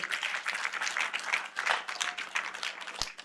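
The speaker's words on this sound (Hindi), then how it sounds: "देनी है ताली तो मार देंगे" A church congregation clapping during a sermon, a short burst of many hands at close range with uneven, swelling loudness and a sharp thump near the end.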